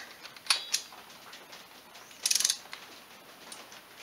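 Ratchet clicks sound in short bursts on the head gasket bolts of a Polaris 500 engine: a couple of quick ticks, a faster rattling run midway, then a lone click, quiet and close with no voices.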